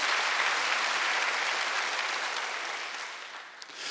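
Steady applause from a large church congregation during a Wednesday worship service, a dense wash of clapping that fades slightly toward the end.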